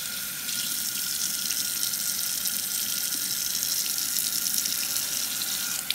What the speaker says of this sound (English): Add some more hot water back to this bad boy.